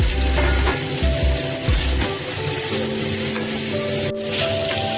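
Vegetable stalks and cut potatoes frying with turmeric in a pan, a loud continuous sizzle with repeated scraping stirs and clanks of the spatula against the pan.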